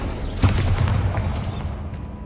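Confringo spell explosion in Hogwarts Legacy, a single sharp boom that rolls into a broad rumbling blast, fading over about a second with no one talking during it.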